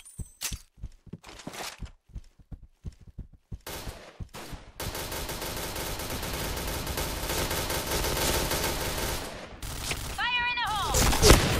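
Gunfire in the online shooter Point Blank: scattered single shots and short bursts at first, then a long, sustained stream of rapid automatic fire, with some game effects near the end.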